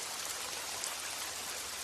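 Steady rain falling outdoors, a dense, even hiss of drops with no breaks, moderately loud and heard without any voices.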